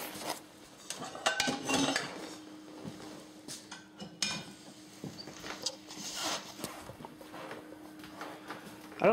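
Old metal pots and pans clank and clatter in an irregular series of clinks and knocks, some sharp and close, with no one talking.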